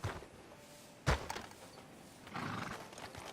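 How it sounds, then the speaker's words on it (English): A horse in the video game Red Dead Redemption 2 whinnies and clops its hooves, a sharp thud followed by snorting and hoof noise, fairly close, with no talk. "Can you grab Anders off your horse and carry him in for me?"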